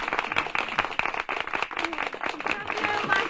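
Hands clap in brisk, uneven applause for an honoree at a village festival, with a voice speaking over the clapping.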